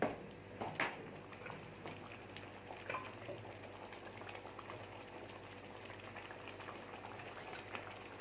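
Egg moily milk gravy bubbles at a soft, steady boil in a pan, with a continuous quiet simmering burble and a few small pops near the start.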